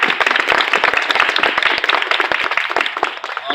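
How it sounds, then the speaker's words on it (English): A crowd applauds students at a Columbine anniversary rally outside Hoboken City Hall, dense steady clapping from many hands that carries on throughout and tapers slightly toward the end. "let's give these kids a round of applause"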